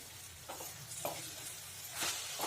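A coconut and jaggery filling for steamed rice-flour modak is stirred in a pan over a low gas flame, making soft, quiet sizzling with brief scraping bursts from the spatula.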